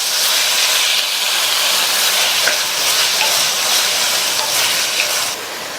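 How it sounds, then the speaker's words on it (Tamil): Tomatoes with salt sauté in a pan for a drumstick kuzhambu, giving a steady, loud sizzling hiss with faint stirring clicks throughout, easing slightly at the very end. "இந்த குழம்புக்கு தேவையான அளவு உப்பையும் சேர்த்து நல்லா வதக்கிட்டோம்னா தக்காளி நல்லா வதங்கி மசிஞ்சு வந்துடும்"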